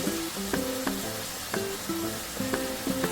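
Curry leaves and green chillies crackling and sizzling in hot oil in a pan for ridge gourd chutney, a steady close fry with intermittent sharp pops and spatters throughout.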